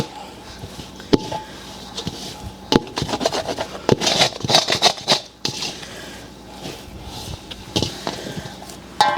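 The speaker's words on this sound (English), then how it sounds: "So we're just going to knead it a little bit. Just folding it on top of each other." Dough is kneaded and folded by hand for a side dish, giving soft rubbing and patting sounds with occasional sharper taps, close and steady, with a little talk underneath.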